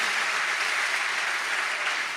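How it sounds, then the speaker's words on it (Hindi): Sustained applause from a large audience at a Hindu religious discourse in Vrindavan, a dense, even wash of clapping heard from a distance, steady throughout without voices over it. "इस पर तो जोरदार ताली बजाओ।"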